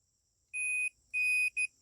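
Three clean electronic beeps from a multimeter continuity test on a 1976 Vermeer LS200 log splitter, the first two longer and the last short, a steady high tone close to the device over near silence.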